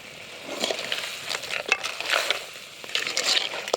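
Cleaned crabs go into a hot pan to fry, giving irregular sizzling crackles and sputtering bursts, moderately loud and uneven, with no talking.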